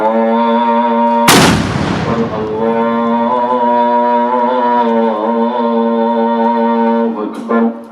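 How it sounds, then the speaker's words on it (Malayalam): A traditional katina gunpowder charge fired at a mosque in Kerala to mark the Ramadan iftar: one loud, close blast over a steady horn-like tone, with a smaller crack near the end. "നൂറ്റാണ്ടുകൾ പഴക്കമുള്ള കതിന വെടി പൊട്ടിക്കുന്ന ആചാരം ഇന്നും ഇവിടെ നിലനിൽക്കുന്നു"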